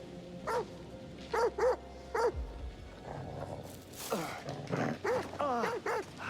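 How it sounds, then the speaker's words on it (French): A dog in the video game The Devil in Me gives a run of close, clear barks and yips in short bursts, with a little whimpering among them. "Je sais pas quelle race de chien, mais c'est un chien."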